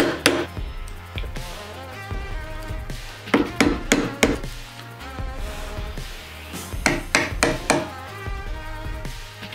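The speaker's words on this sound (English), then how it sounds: "I got to use the handsaw in order to score those lines, and then I cleaned it up with a small 1/4 inch chisel." A small 1/4 inch wood chisel is struck with a mallet to clean up sawn lines while making a wooden gift box: loud, sharp taps in uneven bursts, grouped clusters of several quick hits separated by short pauses.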